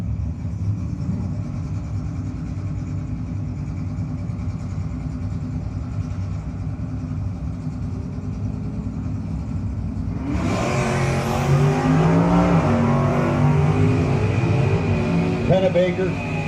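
A 1968 Dodge Super B and a Chevrolet launch off the drag strip line, a steady loud engine drone rising into a hard rev as they pull away, with an announcer talking over the roar.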